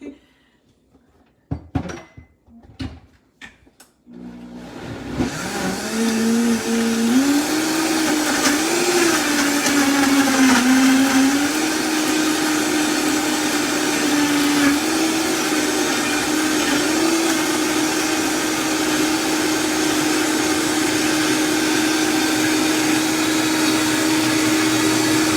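Kitchen blender whirring loudly and steadily while making a smoothie with water, starting after a few clatters and taps as it is set up, then holding a continuous high motor drone with a shifting pitch.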